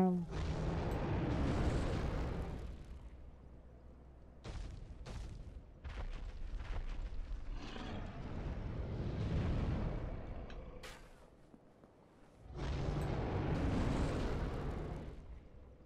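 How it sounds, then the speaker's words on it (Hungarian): Repeated bursts of gunfire in a video game, loud booming shots coming in clusters with short gaps between them, alongside explosive rumbles. "Most itt lövöldözzük egy kicsit."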